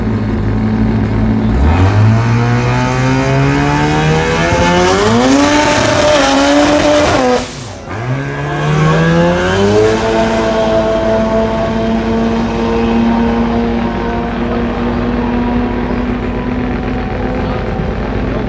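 A Mazda RX3 coupe launches down a drag strip at a racing event, rotary engine screaming and climbing through gears with tire squeal from wheel spin, a brief dip at a shift, then a long sustained high drone, loud and close.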